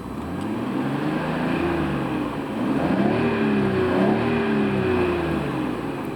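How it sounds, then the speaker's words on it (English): A 1990 Nissan Skyline GT-R engine revving from idle, its response stumbly at low RPM; a close, steady engine note rises and wavers in pitch with no talk over it. "Engine response is a little bit stumbly at the low RPM, which is a common problem with this car."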